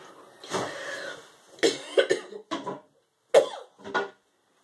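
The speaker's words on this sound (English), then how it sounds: "Please excuse the coughing." A run of harsh coughs close to the mic, several bursts in quick succession with short gaps between them.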